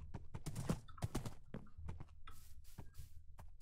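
A horse walking in a video game, with quiet irregular hoof clip-clops and scattered clicks, faint and close, with no talk over them.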